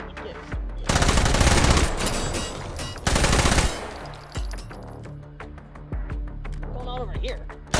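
Rifle fire in the VR shooter H3VR: two loud sustained automatic bursts, each about a second and a half long, followed by a few scattered single shots and clanks, with a voice speaking in between.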